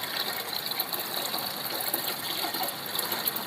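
Water gushes steadily from a pipe into household containers and an overhead tank, a continuous broadband rush with faint mechanical rattling underneath and no voices.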